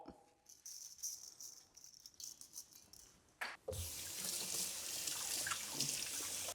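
Kitchen tap turned on for hand washing while cooking beef stew, a few quiet rattles and clinks followed by a sudden steady loud rush of running water.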